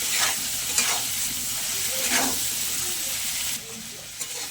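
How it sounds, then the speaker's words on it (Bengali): Oil sizzles steadily under repeated scraping strokes of a spatula stirring eggplant frying in a little oil, close and fairly loud, with a brief drop near the end. "অল্প একটু তেলের মধ্যে নাড়াচাড়া করে নেব"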